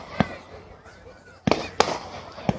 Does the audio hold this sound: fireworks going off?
yes